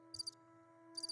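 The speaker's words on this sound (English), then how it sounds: "where are the crickets? Oh, right here." Two short bursts of cricket chirping, each a quick pulsing trill, separated by a pause, over a steady low electrical hum.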